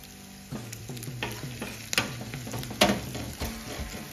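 Asafoetida tempering crackling in hot oil for daddojanam curd rice, with sharp bursts of sizzle and spatter that swell and ease as a spoon stirs and clinks against the pan, loud and close.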